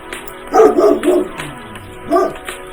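Dogs bark in a quick cluster of loud, close woofs, followed a moment later by one more bark, with no talking.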